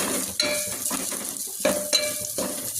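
Vegetables and curry leaves fry in oil in a pan for brown radish seed chaat, a continuous sizzle broken by close scraping and stirring of a utensil against the pan.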